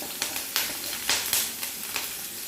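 Ginger, garlic and green chillies frying in a pan, a steady close sizzle with soft periodic surges as the pieces are stirred, no voices.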